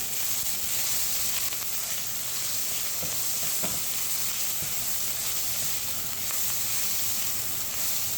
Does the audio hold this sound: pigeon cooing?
no